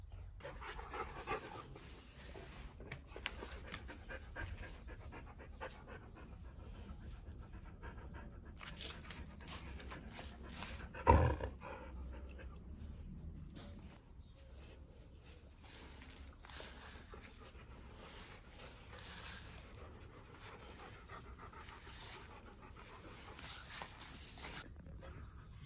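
A calm husky dog panting quietly and rhythmically nearby, soft breathy puffs continuing throughout with one brief louder bump midway.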